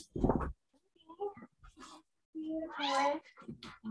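Kittens in an office attached to a foster area, with a loud meow at the start and more mewing cries later, mixed with human voices talking nearby.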